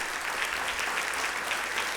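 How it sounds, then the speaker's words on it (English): An audience of about 600 people at a State of the City event in a Rivers Casino hall applauds with steady, dense clapping. "so give yourself a round of applause"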